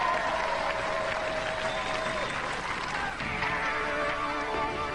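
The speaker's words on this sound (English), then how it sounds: "Ladies and gentlemen, give them a round of applause." Studio audience at a 1998 Robot Wars taping applauds and cheers continuously, a dense, loud wash of crowd noise with some tonal music or hum underneath throughout.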